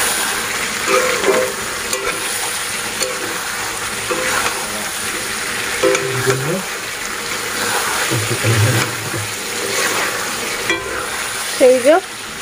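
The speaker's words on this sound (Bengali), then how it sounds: "মাংসটা কষানো হচ্ছে আপাতত, প্রায় হয়েই এসছে কষানো।" Meat curry being stirred and sautéed in a pan, a soft sizzle with repeated spoon scrapes and occasional clinks, close and fairly loud, with a few brief incidental sounds mixed in.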